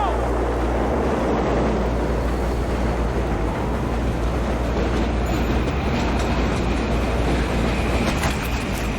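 A train rolls through a mission in the video game Battlefield 3 with a loud, continuous low rumble and rattling clatter that stays near and even, and muffled voices sit faintly underneath.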